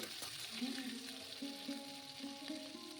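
Shrimp fry in a pan with a soft, steady sizzle and light stirring scrapes; the sound is fairly quiet with a faint background hum.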